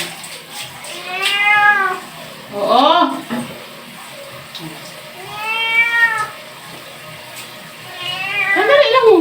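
A pet cat meows repeatedly while being bathed with water on a hot summer day, its loud drawn-out cries coming in bursts over a steady background hiss, with a person's voice briefly heard.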